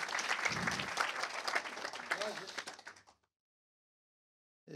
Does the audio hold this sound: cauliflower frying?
no